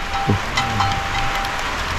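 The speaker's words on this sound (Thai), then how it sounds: "โอ้ฝนก็ตกพี่น้องเว้ยนี่ ยิบหยับลงแล้วฝนตกพี่น้องเว้ย" Steady rain falling outdoors under a dark, overcast sky, a continuous broadband hiss of drops that stays even and fairly loud throughout.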